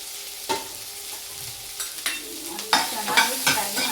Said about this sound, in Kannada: ಕರಿಬೇವು, ಹಾಗೆ ಹಸಿಮೆಣಸಿನ್ಕಾಯಿ, ಈರುಳ್ಳಿ ಎಲ್ಲ ಒಟ್ಟಿಗೆ ಹಾಕೋತೀನಿ ನಾನು.